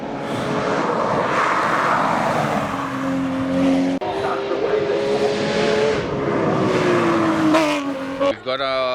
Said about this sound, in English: cars are about to start hitting the track behind me